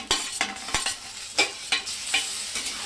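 Chopped tomato sautéing with golden-browned onions in a pan for egg bhurji, with a spoon scraping and stirring in a steady rhythm of about six strokes over a soft, continuous sizzle.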